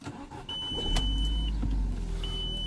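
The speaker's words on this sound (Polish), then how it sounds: "odpalam sobie silnik i obracam tą kierownicą" An Audi A4 B7/B6 engine idles steadily with a low rumble while the steering wheel is turned, accompanied by a brief electronic beep tone and a short mechanical knock, heard close up without talk.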